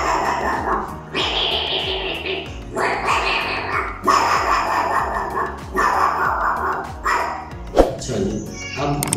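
A voice mimics a dog yelping and barking as if its neck were stepped on, a run of sharp, repeated barks and whimpers close to the microphone, with short breaks between bursts.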